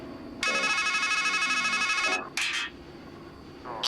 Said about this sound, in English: It's a payphone.